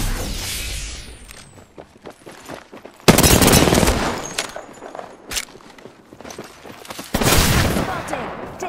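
Rapid automatic gunfire in Apex Legends Season 4 comes in loud close bursts, with footstep-like clatter and quieter gaps between volleys.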